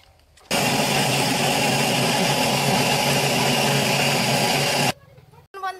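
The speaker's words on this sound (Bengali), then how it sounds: "চলুন মিক্সিতে আমি এটা বেটে নিই।" An electric mixer grinder grinds coriander leaves together with spices in one loud, steady whirring run of about four seconds that starts and stops abruptly, with brief quiet kitchen sounds before and after.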